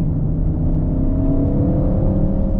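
Deep V8 turbo engine of an Audi RS6 rumbling close by, its low drone rising slightly in pitch as it revs, steady and loud throughout.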